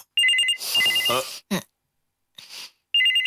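A telephone rings indoors in short, bright repeated bursts at the start and again at the end, with a loud voice exclaiming briefly between the rings.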